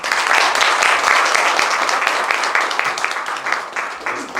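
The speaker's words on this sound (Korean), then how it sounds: "박사님께 한번 또다시 한번 뜨거운 박수 부탁드립니다." Audience at a Daejeon Sejong Research Institute forum applauds a speaker with steady, dense clapping that holds strong throughout.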